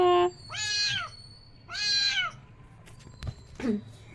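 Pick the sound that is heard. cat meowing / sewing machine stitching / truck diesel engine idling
cat meowing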